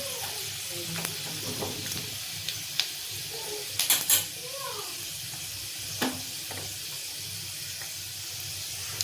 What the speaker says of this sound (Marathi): लसूण मस्त खरपूस होईपर्यंत तळून घ्यायचा।